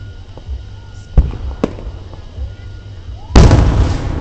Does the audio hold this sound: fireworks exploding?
yes